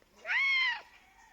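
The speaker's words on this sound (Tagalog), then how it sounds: "So this is my cat, Inosuke. He wants to cling with me." Inosuke, a pet cat, gives a single clear, close meow lasting under half a second, rising then falling, in an otherwise quiet room.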